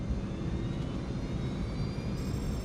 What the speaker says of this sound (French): le vol 686 entreprend sa course au décollage sur la piste de 2400 mètres de long